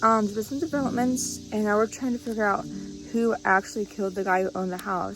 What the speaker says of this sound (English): Apologies for the birds.